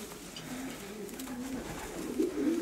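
Breeding pigeons coo in soft, repeated low calls close by, rising a little louder toward the end, with no speech over them.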